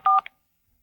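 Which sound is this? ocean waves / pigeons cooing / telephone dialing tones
telephone dialing tones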